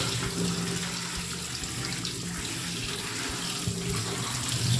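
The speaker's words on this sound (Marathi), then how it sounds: "चला आता सुरुवातीला पहिले धुवून घेते प्रॉन्स सगळे" Tap water runs steadily into a sink while raw prawns are rinsed, a continuous close splashing flow with no speech.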